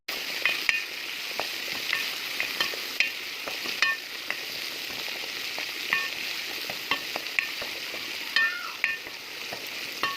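Garlic and hot chili frying in local ghee make a steady close sizzle, dotted with sharp crackles and pops throughout.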